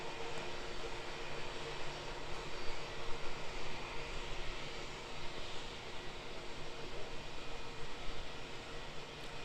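An Airbus A321XLR airliner at Auckland Airport sends out a distant, steady jet engine roar and broadband rush, sustained and fairly faint throughout with no voices.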